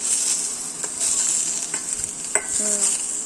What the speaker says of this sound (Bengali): আলুটা না দাও সুন্দর করে তেলের সাথে মিক্স করো একটু ভাজা ভাজা হলে বেশ ভালো লাগবে